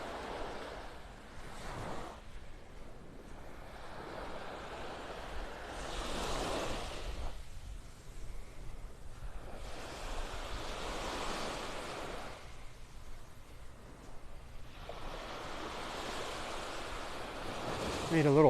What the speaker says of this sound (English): not much in the way of waves here.